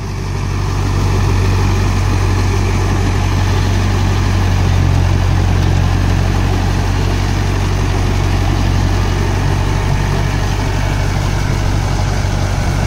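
A tractor engine runs a cultivator in a medium gear, a loud, steady, close diesel drone with a low throbbing rumble that holds constant throughout and has no voices over it.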